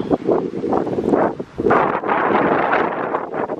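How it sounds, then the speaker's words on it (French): Outdoor wind in Seoul buffeting the microphone, loud gusty rumbling and rustling that swells and dips for a few seconds with no voices. "On a de la chance parce qu'il fait frais, il y a du vent."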